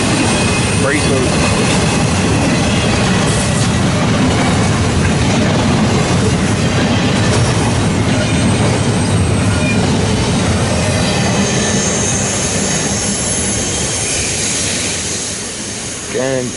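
An eastbound double-stack freight train rolls past Lewistown Station, loud and close, with a steady wheel roar and rumble that continues throughout and eases slightly near the end.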